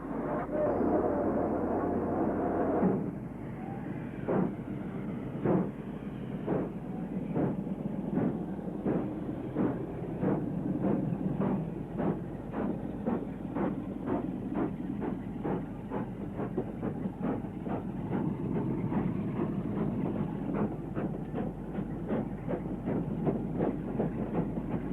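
A steam locomotive hauls a train in place of a failed Class 47 diesel, rumbling steadily with a regular clickety-clack of wheels on rail joints that continues close by for the whole span.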